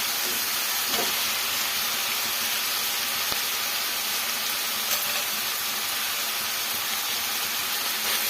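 Carrots fry in a pan with tomato, giving a steady, fairly loud sizzling hiss with a few faint clicks of stirring, no talking.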